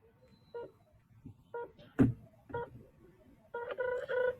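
Dial tones beep in short bursts at uneven intervals as a phone number is keyed in, followed by a quick run of tones near the end.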